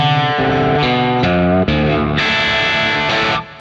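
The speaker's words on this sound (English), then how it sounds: "That is just like a bread and butter distortion." Electric guitar played through a plain distortion pedal with a 2x12 cabinet simulation, a run of loud overdriven chords changing every half second or so before cutting off at the end.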